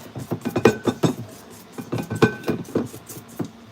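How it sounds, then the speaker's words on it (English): A spatula scraping down the sides of a mixing bowl of thick brownie batter, giving a run of close, rhythmic rubbing scrapes in quick bursts with short pauses between them. "So I'm gonna take a minute to scrape down my bowl a little bit"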